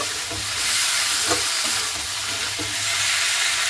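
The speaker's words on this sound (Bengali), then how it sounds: "আলু দিয়ে মটরশুঁটিতে খুব সুন্দর করে ভালো করে কষিয়ে নেব" Potatoes and green peas stir-frying in a pan give a loud, dense, continuous sizzle with occasional stirring scrapes, close by and with no talking.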